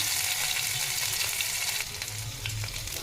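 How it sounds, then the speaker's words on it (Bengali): Ginger added to hot oil in a home kitchen sizzles and fries with a steady, dense hiss close up, easing slightly partway through, with faint stirring and no talk. "মশলাটা যখন আমার লাল লাল হয়ে গেলো, তখন আমি আদাটা দিয়ে দিলাম তেলে"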